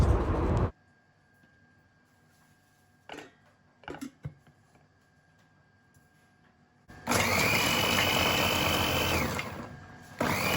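An electric kitchen chopper blends onions and fish. A short whirring burst gives way to quiet clicks of handling, then the motor spins up loud for several seconds, with no voices.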